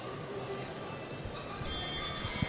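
A bell rung for the last lap of a university indoor track race, ringing as a faint metallic clang under steady crowd noise of the championship arena.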